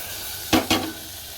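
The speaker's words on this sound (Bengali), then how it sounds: "চিকেন আলু গাজর তারপর একটু জিরে গুঁড়ো ধনে গুঁড়ো নুন হলুদ এগুলো সব দিয়ে একটু কষিয়ে নিচ্ছি হালকা করে" Chicken, potato and carrot are sautéed with cumin, coriander, salt and turmeric under a soft constant sizzle, broken by two quick scraping stirs of a utensil in the pan.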